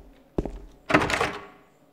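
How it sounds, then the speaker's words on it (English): A locked door rattling in the video game Silent Hill 2: two close heavy thuds, the second a longer, louder rattling burst that fades out, with no talking. "the door won't open."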